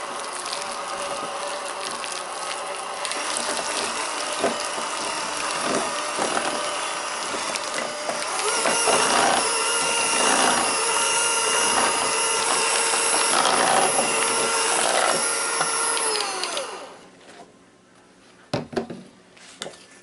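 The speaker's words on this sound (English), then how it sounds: "This is my new handy dandy cordless mixer." A cordless hand mixer whirs steadily for about sixteen seconds while seasoning is blended in a bowl, then shuts off, leaving a few faint knocks.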